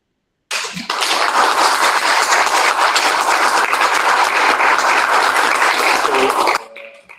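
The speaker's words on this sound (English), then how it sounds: "people are clapping here" Audience applause at the close of a lecture on race and genetics: dense, steady clapping from many hands that starts suddenly, holds evenly for about six seconds, then stops, with no voices over it.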